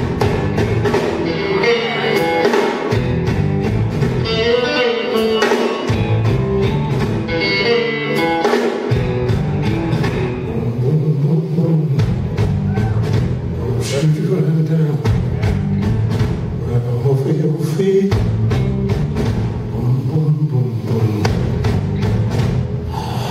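Live electric guitar and band in a concert hall, a guitarist playing a boogie riff in Ridgefield, Connecticut; loud, steady, driving rhythm with crowd and room ambience throughout.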